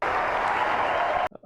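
A theatre audience at a magic show in The Prestige bursts into loud, dense applause that stops abruptly, followed by a brief snatch of voices.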